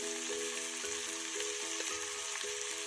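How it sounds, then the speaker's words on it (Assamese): Paneer cubes frying in oil in a pan for butter paneer, a dense and steady close sizzle that carries on without pause, with a faint repeating tonal hum beneath it and no voices. "গোটাই ফ্ৰাই কৰি ল'ম।"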